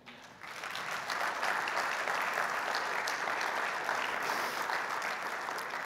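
A church congregation applauds the worship team, with steady, dense clapping that swells within the first second and holds evenly at fairly close range with no talk over it.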